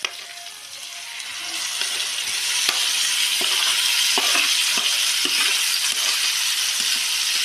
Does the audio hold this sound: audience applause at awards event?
no